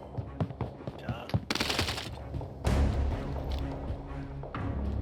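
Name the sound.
gunfire in a battle royale video game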